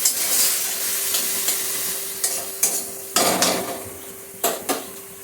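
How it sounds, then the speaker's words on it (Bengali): Leafy greens are stirred in a hot pan, giving a steady low sizzle broken by several sharp scrapes and knocks of a spatula against the metal, close by and with no talking. "একটু নেড়ে চেড়ে।"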